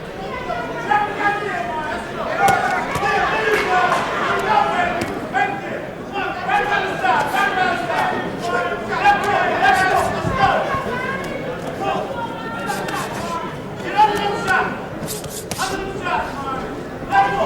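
A boxing crowd at the Myron Taylor vs Curtis Strong fight hollers and yells for Taylor, a constant loud roar of voices with sharp shouts rising over it, under a commentator talking throughout.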